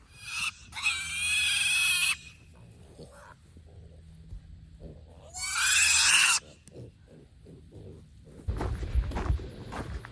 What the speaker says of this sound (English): So let's start grabbing some piglets.